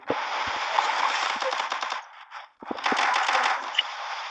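Video game gunfire in a 2 vs 2 match: sustained rapid automatic bursts, loud and dense, with a brief gap midway before another long stream of shots.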